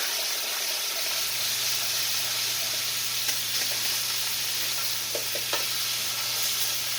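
Meat frying in a lightly oiled pan, a steady hiss of sizzling throughout with a few faint clicks and clatters near the end, close and unaccompanied by talk.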